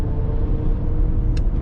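A 2025 Cadillac Escalade IQ electric full-size SUV accelerates at full throttle, giving a steady, loud road and motor rumble that holds evenly throughout with no voices.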